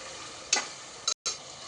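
Meat for kari kanji stirred in a pot, a couple of scraping stirs over a soft, steady sizzle of frying, close and fairly quiet with a brief break in sound.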